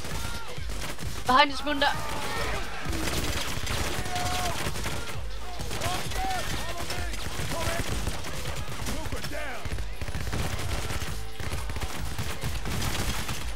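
Constant gunfire from a Payday heist shootout with police, bursts and single shots layered into dense game noise under several players talking over voice chat.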